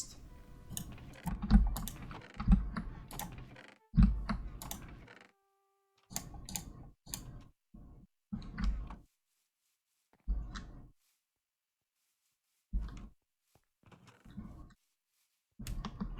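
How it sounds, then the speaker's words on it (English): Computer keyboard keys clatter in bursts during a block-building game, with quick clustered presses and single sharp spacebar taps broken by stretches of silence, all close up and without talk. "My finger just twitches on that spacebar."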